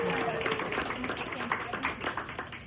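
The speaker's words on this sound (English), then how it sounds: "Let's give her a huge round of applause." Restaurant audience applauding for its manager, a steady wash of clapping from a crowd mixed with voices and murmured talk throughout.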